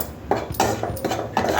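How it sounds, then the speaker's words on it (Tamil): A spoon scrapes and knocks against a kadai as flour is lightly roasted and stirred for a multi-grain sweet, with several clattering metallic strokes in an uneven rhythm, close and moderately loud. "இந்த மாவு கொஞ்சம் லேசாக வறுத்துக்கலாம்."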